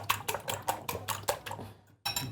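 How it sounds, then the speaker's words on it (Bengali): Egg being beaten in a bowl for a home-cooked Bengali dish, a quick run of about a dozen sharp, close taps of utensil against bowl, stopping briefly before one more burst, with no talk. "ডিমটা ফেটে নিচ্ছি এখন"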